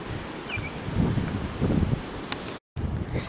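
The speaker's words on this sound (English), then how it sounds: "the sound of the wind." Wind gusting across the microphone on a quiet towpath trail far from roads, a steady broadband rush with stronger gusts and a brief dropout near the end, no voices present.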